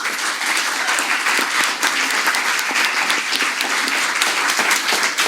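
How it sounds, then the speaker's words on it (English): A live audience at a talk-style program gives a dense, steady round of applause, loud and continuous throughout with no voices over it. "Give yourselves a round of applause."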